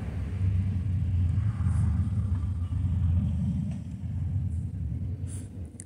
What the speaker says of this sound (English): Oh, that's not a car, that's a motorcycle.